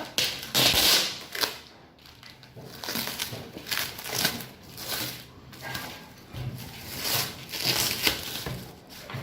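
Cardboard parcel from Apple holding a MacBook Air M1 being cut and torn open, with repeated close scratchy crinkling and crushing bursts and soft taps, steady throughout with no talking.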